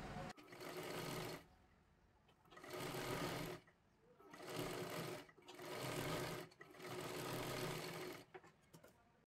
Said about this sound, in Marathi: डबल शिलाई मारून घ्यायची आहे,